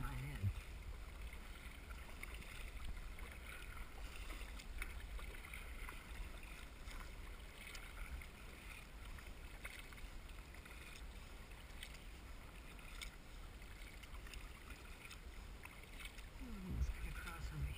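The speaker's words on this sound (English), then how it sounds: "I went out paddling with a camera on my head" A prototype kayak is paddled on Puget Sound, with steady soft water wash and lapping around the hull under a constant hiss of wind and open-water ambience, faint and continuous throughout.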